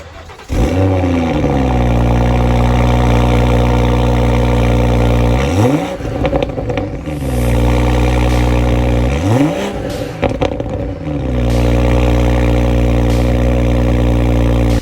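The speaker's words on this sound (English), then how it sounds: "Now, I'm going to do a cold start here and then a warm start." BMW X3 engine cold-starting, then idling loudly and close, with several sharp revs that rise and fall before it settles back into a deep, steady idle.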